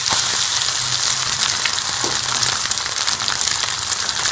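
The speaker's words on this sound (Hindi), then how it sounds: "दूसरे कबाब पे जो है वो फ्राई करने के लिए रख देंगे" Kebabs frying in a hot pan give a steady, close sizzle with crackling hiss throughout, no voices.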